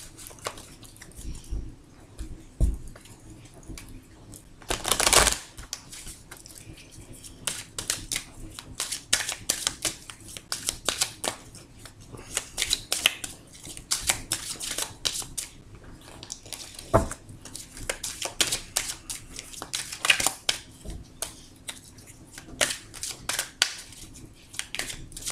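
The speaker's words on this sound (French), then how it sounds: "En attendant, place au battage des cartes." Tarot cards being shuffled during a general and romantic tarot reading, heard as scattered soft riffling and slapping bursts with a louder thump near the start, close and quiet, with no talking.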